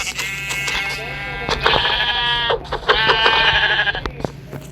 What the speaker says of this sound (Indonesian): Aku bunuhin domba-domba dulu ya